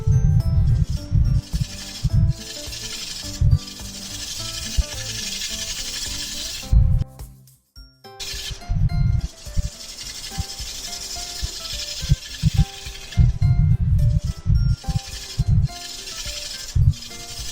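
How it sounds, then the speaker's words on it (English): A wood lathe back-cuts a mortise with a diamond carbide bit, giving a steady scraping rasp with low rhythmic thumps from the spinning workpiece and a short break near the middle. "Now I'm using the diamond carbide bit to back cut the mortise"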